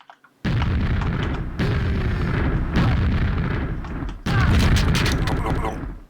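Scrags firing in the Quake mod QTEST Ogres&Wizards, loud booming bursts that start abruptly and repeat in several long chunks, each blast ringing out densely and up close.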